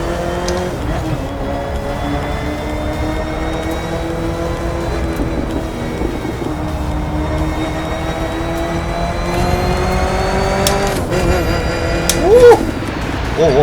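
A Ford GT engine in the racing video game The Crew 2 accelerates with a continuous, steady drone and slight rises in pitch, loud and close throughout.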